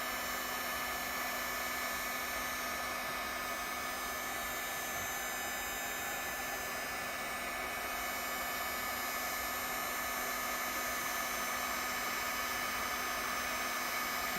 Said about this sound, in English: with an inexpensive heat gun, we put it on the low setting and just start going at it